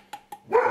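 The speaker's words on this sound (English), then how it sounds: "And that's a dog barking at something." A dog barks twice in quick succession, moderately distant, followed by a burst of nearby rustling or handling noise; a person briefly speaks a single word.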